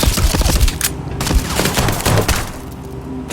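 Rapid bursts of gunfire from the video game Starfield, loud and dense volleys of shots packed close together with almost no gaps, filling the whole stretch.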